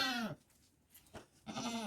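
A goat bleats twice, a long wavering cry at the start and another at the end, close by with a quiet pause between, around a nanny with three kids.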